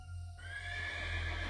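A horse neighs and whinnies alone, a clear high call at the start that trails off into a low steady rumble, with faint hoof-like clopping beneath.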